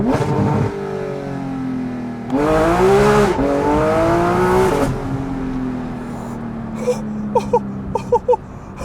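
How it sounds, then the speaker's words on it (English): A sports car engine revs hard, then blips and drops through a downshift, the exhaust burbling and popping with a few sharp crackles at the end. "Literally downshifts with this custom exhaust."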